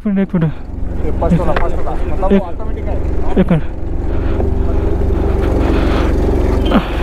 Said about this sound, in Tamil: फुल रेस பண்ணாலும் போக மாட்டேங்குது வண்டி